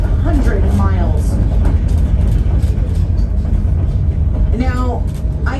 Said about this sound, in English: a train ride like we're experiencing right now